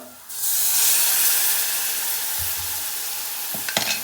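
Loud, steady sizzling starts suddenly as beef mince, onion and masala hit a hot pan, with a few clinks of a spoon near the end.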